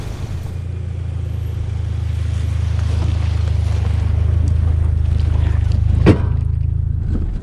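A vehicle crawls at walking pace over rocks on a rough desert road in eastern Oregon, its engine a steady close low drone throughout, with a sharp knock or clunk near the end.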